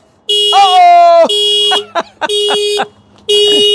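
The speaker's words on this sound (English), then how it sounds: "How long does it beep for?" Loud electronic warning beeps from a Gator utility vehicle in long sustained bursts with short gaps, close by, with people's voices reacting between and over the tones.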